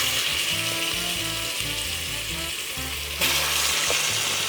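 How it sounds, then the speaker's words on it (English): Beef short ribs browning in hot oil give a loud, steady sizzle and crackle throughout, with a brief clatter of handling near the end and no talking. "we're gonna come in with our short ribs and we're just gonna be browning them."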